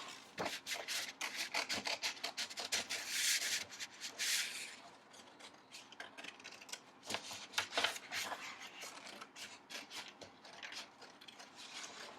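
Scissors slice through paper to cut out a hand shape, giving a run of quiet rustling snips and scraping paper sounds close by, with no talking.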